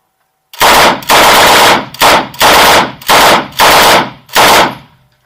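Bursts from a BREN Mark III light machine gun, fired with the side handle folded out: seven loud, close bursts, each lasting roughly half a second, separated by brief pauses, with no talk.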